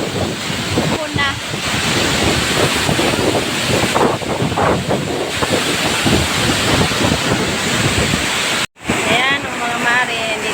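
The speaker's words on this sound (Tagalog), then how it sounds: "Dito natin sa tuktok ng falls na to." A waterfall roars with rushing, spraying water from its top, a loud continuous wash heard close up with heavy wind buffeting the microphone and voices talking under it.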